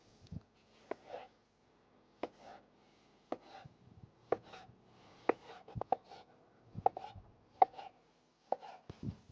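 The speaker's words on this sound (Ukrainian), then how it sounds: "Поріжемо цибульку для шашличка. Поріжемо наші помідорчики." A knife chops onions and tomatoes for shashlik on a cutting board, giving sharp, irregular close taps with soft crunches in between, fairly quiet, with no talking.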